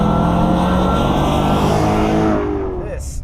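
A Mercedes CL65 AMG engine drones steadily while driving, a loud, close, sustained low roar with rising harmonic tones that eases off near the end.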